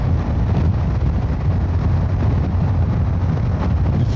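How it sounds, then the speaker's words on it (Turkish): Strong wind roars over a Honda NC750X motorcycle on the road, a dense, constant, loud low buffeting that fills the whole stretch without a break. "Ciddi bir rüzgara karşı sürüyoruz."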